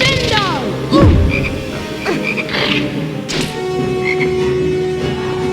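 A chocolate frog croaks repeatedly in the Harry Potter Sorcerer's Stone video game, with loud, close, warbling croaks heard alongside game sound effects and a thud.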